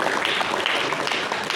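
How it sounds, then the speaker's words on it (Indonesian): A dense, steady wash of audience applause fills a meeting hall at a national working meeting, many hands clapping at once without pause. "tepuk tangan buat kita semua."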